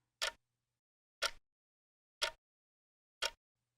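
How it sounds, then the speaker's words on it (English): A wall clock ticks in a quiet room, four crisp, evenly spaced clicks about one second apart, close and clear against near silence. "the room quiet except for the ticking of the clock on the wall"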